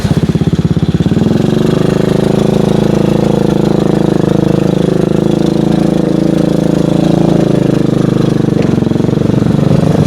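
A Honda Supra motorcycle engine labours uphill on a steep off-road track, a loud, close, steady mid-pitched drone with a rough idle at the start and no talk.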